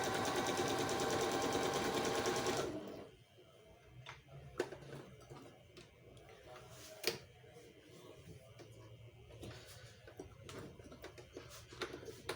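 Singer 5200 sewing machine stitching, a loud, rapid mechanical whir with a fast repetitive rhythm that runs for under three seconds and then cuts off, leaving quiet room noise with faint clicks.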